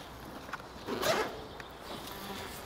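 A zipper on a fabric compound bow case is pulled open in one short, close rasping run, with faint handling noise around it in an otherwise quiet room.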